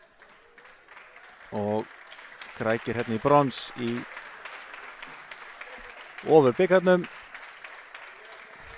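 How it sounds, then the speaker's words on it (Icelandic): Volleyball teams clap for each other after a women's Super Cup bronze match, a steady wash of applause running beneath a commentator who talks throughout. "Liðin klappa hér fyrir hvort öðru"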